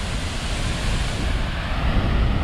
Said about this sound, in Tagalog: Ang lakas ng agos ng tubig mula sa taas.